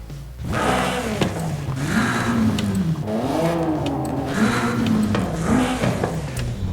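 An inline-four turbo car engine in a Forza video game revs up and down repeatedly, its pitch rising and falling in waves with a whirring turbo tone, loud and continuous.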